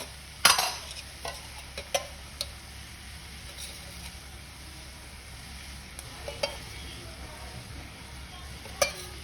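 Chicken fries in oil on a low flame with a quiet, steady sizzle, broken by a few sharp clicks and taps of stirring.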